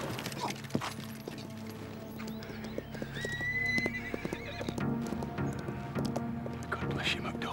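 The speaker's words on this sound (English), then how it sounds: "Didn't kill his horse, because it's run off, so it has." A horse whinnies and its hooves clip-clop as it bolts away after a gunshot in a period battle drama, heard over a busy, noisy scene with voices.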